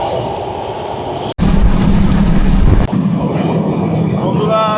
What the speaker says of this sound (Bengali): নিচ দিয়ে ট্রেন চলছে